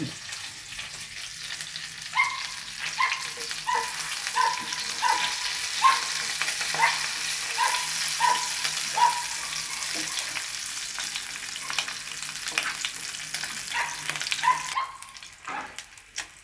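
Cicadas roasting in a pan give a steady, close sizzle with a run of short, regular crackles and stirring clicks, fading out near the end.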